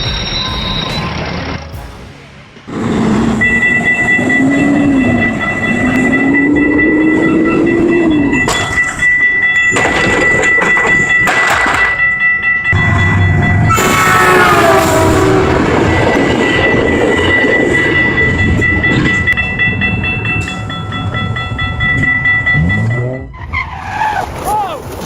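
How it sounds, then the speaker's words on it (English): A train roars loudly along the tracks with screeching metal, squealing wheels and rumbling, intense and close, lasting throughout. "The giant steel train, roaring like a wild beast on the tracks"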